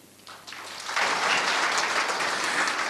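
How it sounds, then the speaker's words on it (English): Audience applause at a SAPSA 2014 event, starting faint and swelling into a full, steady wash of clapping that holds loud to the end, with no voices. "A massive round of applause."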